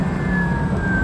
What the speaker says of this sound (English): That noise you hear, by the way, is just the back brakes.